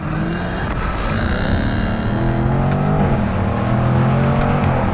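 A supercharged V8 engine of a Jaguar F-Type P450 roars loudly and steadily, a deep throaty growl rising in pitch as it revs, with no talking.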